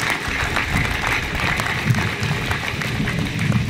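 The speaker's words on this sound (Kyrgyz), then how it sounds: "Бирок аны да таштап келген биздин 2 депутатыбызга дагы бир кол чаап койсоңуздар болот." Steady applause from an audience at the opening ceremony of a new village school, dense continuous clapping that holds at an even level throughout with no voices on top.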